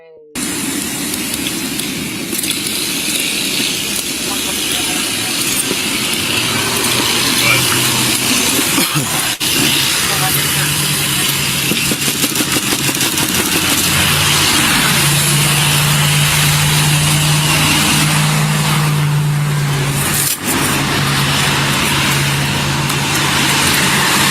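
Loud road traffic with car engines, a dense continuous rumble and hiss with low engine tones swelling and fading as vehicles pass close by, steady and loud across the whole stretch.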